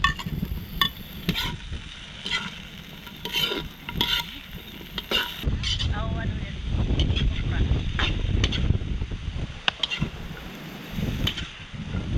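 Garlic, onion and ginger sauté in a pan outdoors, a steady fry sizzle with stirring clatter, partly under wind noise and occasional talking.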